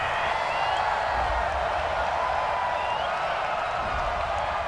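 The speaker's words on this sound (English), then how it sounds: "Well, the crowd doesn't like that." A large stadium crowd at an NFL game between the Los Angeles Rams and Carolina Panthers reacts to a penalty flag, a steady, dense roar of many voices that stays loud and unbroken throughout.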